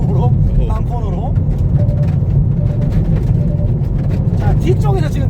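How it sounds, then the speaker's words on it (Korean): A Hyundai Veloster 1.6 Turbo is driven hard on a frozen private course, its engine and road roar steady and loud inside the cabin while stones rattle against the rear fender, and people talk over it. "리어 쪽 특히 휀다 쪽에서 지금 엄청나게 돌튀는 소리가"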